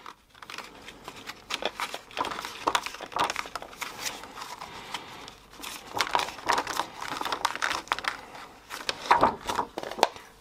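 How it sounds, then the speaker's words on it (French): A plastic tab being cut off a homemade steelbook protector, with crisp crinkling snips and crackles in irregular bursts, close and fairly quiet. "Alors la petite languette, je vais tout simplement la découper maintenant."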